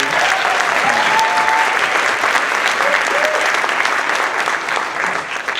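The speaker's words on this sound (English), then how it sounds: "Give them a round of applause." Audience applause at a high school winter concert: sustained, full clapping from a large crowd for nearly six seconds, loud and steady and fading slightly at the end.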